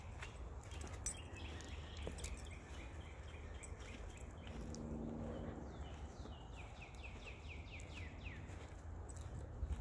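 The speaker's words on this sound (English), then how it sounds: "Cardinals are singing. Red-winged blackbirds are singing." Cardinals and red-winged blackbirds sing and call intermittently in a quiet outdoor setting, short chirps and trills scattered over a low background hum.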